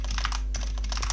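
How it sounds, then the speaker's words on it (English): A computer keyboard clatters in a quick, close burst of keystrokes while text is typed into a simulator. "let's go to the simulator and let's type something"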